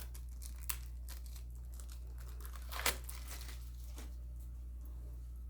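A Temu package being opened, with quiet crinkling and tearing of plastic packaging, a few brief rustles and one sharper crackle against a low steady background hum.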